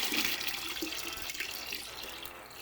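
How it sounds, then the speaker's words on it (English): Leftover coolant drains from a car radiator hose into a container, a close, steady watery gush that trickles on for a couple of seconds. "this is just what we couldn't drain out of the radiator on its own"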